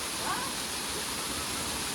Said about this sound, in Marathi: कमीत कमी 60 फुटाच्या अंतरावर हा वरती धबधबा आहे.